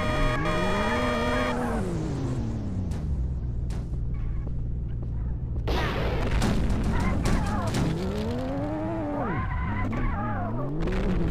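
Video game car revving and skidding, loud engine whine sweeping up and down with screeching tires and a few bangs, continuous and close throughout.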